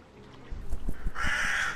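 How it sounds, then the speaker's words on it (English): A crow caws inside the horror video game The Last Dead End, a couple of short harsh calls over a low rumbling game ambience, fairly close and clear with no talking. "there's still crows flying around"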